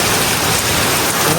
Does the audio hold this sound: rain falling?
yes